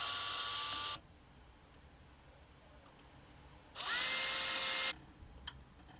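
A power drill boring into wood of an antique parlour guitar for the tuners whines in two bursts, about a second each, separated by a quiet pause; close and loud, no talking.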